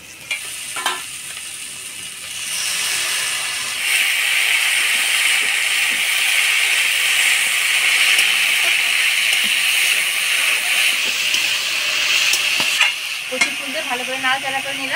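Taro flowers go into a hot pan already holding fried shrimp, and the sizzle swells into a loud, steady hiss close by, with scraping stirs and clatter toward the end and no talk.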